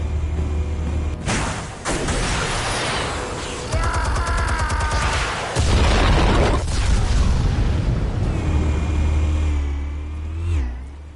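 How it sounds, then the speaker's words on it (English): Explosives detonating in a Batman film scene: heavy, loud booms and rumbling blasts layered with roaring engine noise and whining mechanical tones, sustained and dense across the whole stretch. "Explosives armed. Fire when ready."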